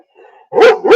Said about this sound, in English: You're supposed to talk, not bark.